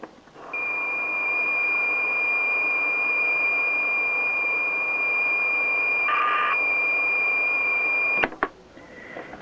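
A homemade Acorn Electron laptop sounds a sustained, thin electronic beep tone through its weak built-in output, holding steady for several seconds with a brief pitch shift before cutting off abruptly.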